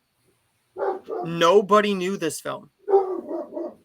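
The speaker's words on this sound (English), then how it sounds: "you can hear my dog barking" A pet dog barks indoors in short bursts mixed in with a person talking steadily, the barks partly buried under the voice.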